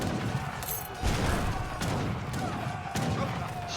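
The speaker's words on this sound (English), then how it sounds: "Shame those heavy cannons aren't upgraded. They're still putting in some work" Heavy cannons fire in a video game battle, sounding as a series of booming, crashing blasts with loud thuds at irregular intervals over a dense, busy mix of game noise.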